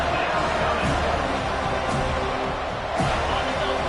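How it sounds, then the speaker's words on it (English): Stadium crowd in the Madden football video game roaring steadily as the defense lines up on third down, a dense, constant wash of cheering with faint swells and a voice talking over it. "Decibels rising as the crowd gets behind this defense on third down"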